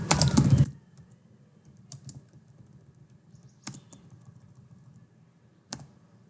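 Code being typed on a computer keyboard: a quick burst of close key clatter, then a few sparse, faint clicks spaced out over several seconds.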